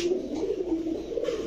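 Pigeons of red chequer racing stock coo nearby in soft, rolling throaty phrases, repeated and close, with no talk over them.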